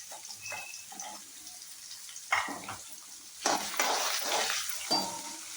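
Chopped onion dropped into a hot pan of oil and frying, a sudden hiss that swells into steady crackling sizzle with some stirring scrapes, close and fairly loud with no talking.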